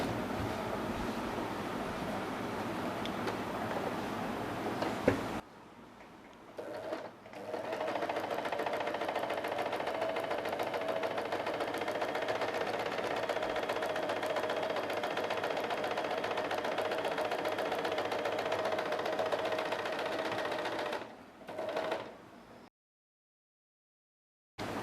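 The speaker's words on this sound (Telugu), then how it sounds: "ఈ ఫుట్ని యూజ్ చేసి ఇప్పుడు మనం నార్మల్ స్టిచ్ ఎలా వేసుకోవాలి అనేది చూద్దాము" An electric sewing machine runs a normal stitch in two long continuous bursts, a dense, even whirring hum that stops abruptly between runs and goes silent near the end.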